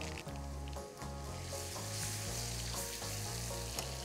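Onions fry in a pan with spices for a rougail of chevaquines, a dense, continuous close sizzle with crackling pops and faint steady tones beneath, no voices.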